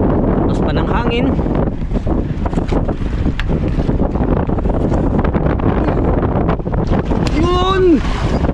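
Strong wind roars steadily across the microphone over open water, with a constant buffeting rush and excited shouting voices rising above it.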